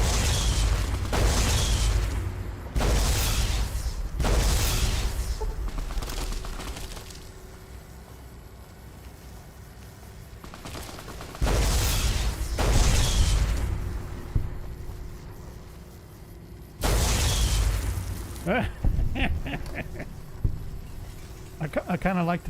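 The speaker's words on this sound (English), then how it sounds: "I kind of like the cannon." Cannon fire in Fallout New Vegas, a weapon running on electron charge packs: several loud, booming blasts in bursts across the stretch, each with a rumbling tail, mixed with game sound and someone talking.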